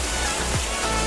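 Mountain stream flowing past rocks beside a footbridge near Subic, a steady close rushing wash of water with no pauses or voices.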